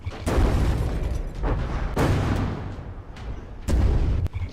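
A T90 tank firing in the vehicle combat game From The Depths, several loud, booming cannon blasts spaced a second or so apart, each with a rumbling tail, heavy and close.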